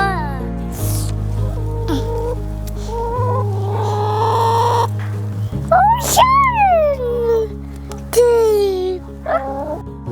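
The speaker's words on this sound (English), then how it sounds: "amidst the backyard symphony of clucks and rustling feathers" Backyard chickens cluck and call in a series of rising and falling squawks while people talk over them.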